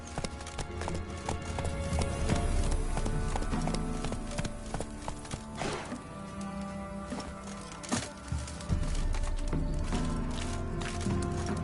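A horse gallops in the God of War video game, rhythmic hoof clip-clops pounding steadily and close throughout, with game ambience and music underneath.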